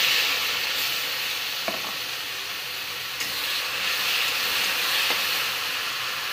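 Chopped onion, tomato and green chilli frying in a pan with hing, bay leaf and oil, giving a steady loud sizzle with a few soft stirring scrapes and no talking.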